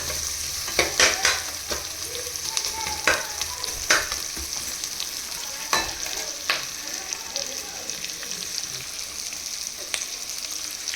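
Vegetable hakka noodles fry in a pan under a steady hiss of oil, punctuated by scattered scraping and tapping strokes of a spatula at uneven intervals, close and moderately loud, no speech.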